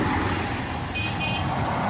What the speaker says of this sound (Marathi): हेवी ट्रॅफिक आहे.